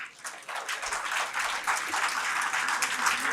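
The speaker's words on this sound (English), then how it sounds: "Give a big round of applause." An audience at a Pecha Kucha talk event claps and applauds steadily, a dense and lively patter of many hands filling the room for a few seconds.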